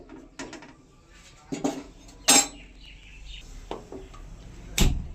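A lid set down on a cooking pan while preparing a flat-bean dish, giving a few sharp metallic clinks and clatters against quiet kitchen background, with bird calls faintly outside.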